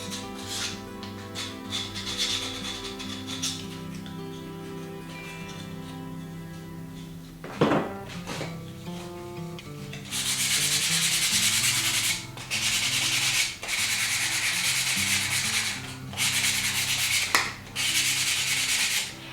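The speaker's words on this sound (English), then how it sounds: "use the sandpaper that was given to you in the kit and just smooth out those rough areas" Steady, coarse rubbing of sandpaper over a wooden herringbone tray, loud and close, in long continuous strokes with brief pauses between them; music plays underneath.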